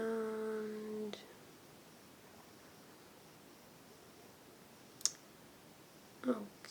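A sharp, isolated computer mouse click sounds in a quiet room, with another faint clicking cluster a moment later, following a brief tonal sound at the start.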